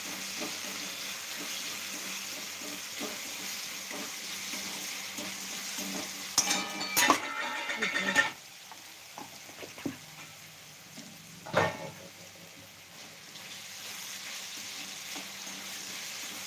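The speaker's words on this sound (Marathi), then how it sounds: "चांगला बटाटा तेलामध्ये परतून घ्यायचा म्हणजे भाजून घ्यायचा" Potato pieces frying in oil over a full gas flame, a continuous soft sizzle with a few bursts of louder scraping and stirring, heard close with no speech.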